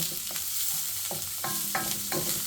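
Garlic, onion, spring onion and chili aromatics stir-fried in a pan for a chicken and vegetable stir-fry, with a steady sizzle and repeated scraping stirs of a spatula, close and fairly loud, no talking.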